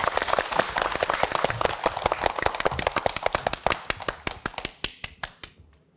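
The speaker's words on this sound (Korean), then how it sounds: "큰 박수로 청해 듣도록 하겠습니다" A studio audience at a televised poetry lecture welcomes poet Kang Won-seok with dense, lively applause. It starts as a full wash of claps, then thins to a few sparse, separate claps before falling silent.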